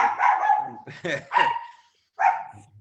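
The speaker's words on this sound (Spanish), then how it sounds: "Está enojado, el perro está enojado, está diciendo algo." An angry dog barks in a home during an interview, loud and close, several sharp barks in a short burst, then a pause and one more bark.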